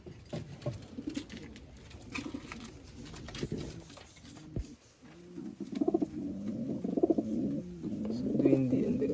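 Caged pigeons, a loft of pigeons for sale, coo softly in repeated low rolling calls, with a few wing flutters and faint background noise.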